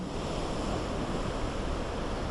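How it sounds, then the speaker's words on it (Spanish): Strong surf and heavy swell pound a beach at Puerto Colombia during stormy weather, a continuous loud, broad roar of crashing water with wind, close and unbroken. "Fuerte oleaje y mar de leva se viene registrando por estos días en playas de Puerto Colombia."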